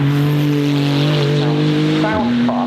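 A Porsche Manthey Racing 991 GT2 RS MR race car engine revs loud and close, its steady high drone rising and wavering before a sharp drop and a quick blip near the end.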